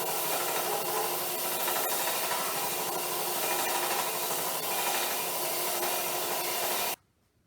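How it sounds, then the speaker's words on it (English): A belt sander grinds steadily against a wooden pole for a Halloween mace, a loud, continuous rasping rub with no talk, stopping abruptly at the end. "And we're going to use the belt sander."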